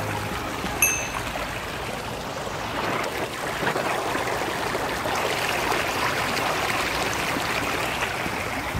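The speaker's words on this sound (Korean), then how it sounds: "여러분, 물소리 한번 들어보세요." Stream water flows in a steady, close, continuous rush with no talking over it, with a brief faint tone near the start.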